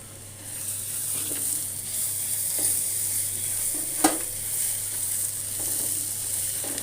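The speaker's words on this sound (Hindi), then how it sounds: "मैं इसके अंदर 1 टेबल स्पून अदरक लहसुन का पेस्ट डाल दूंगी।" A steady, bright sizzle of ginger garlic paste frying with onions in a pan, with a few soft stirring scrapes and one sharp tap along the way.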